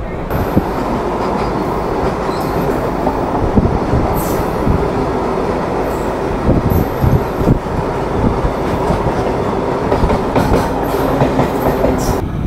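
A local train on the Howrah to Digha line running at speed, a loud continuous rumble with rhythmic wheel clatter and occasional brief high squeals of wheels on rails, heard from inside the carriage.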